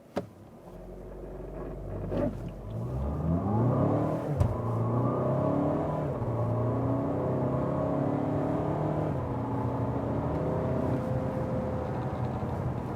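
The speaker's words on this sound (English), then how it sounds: "Let's hammer the brakes and then hammer the throttle and see what is really this great acceleration here with the BiTurbo diesel" A Volkswagen Tiguan R-Line with a 240 hp BiTurbo TDI diesel and DSG gearbox accelerates hard from a stop, its engine note rising steadily through the gears for several seconds with a sustained loud drone and no talk.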